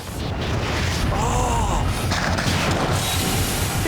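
A loud explosion sets off a sustained, broadband roaring rumble with crackling debris that stays intense for several seconds.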